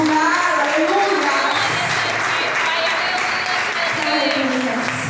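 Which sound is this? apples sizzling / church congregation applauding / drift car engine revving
church congregation applauding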